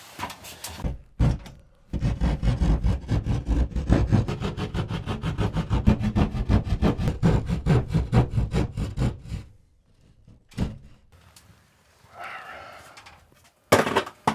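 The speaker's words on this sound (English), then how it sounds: "First thing we've got is cutting all this drywall out of the way." Drywall being cut out by hand during a pressure regulating valve replacement: a long run of rapid, rhythmic rasping saw strokes, loud and close, followed by a few scrapes and knocks as pieces come away.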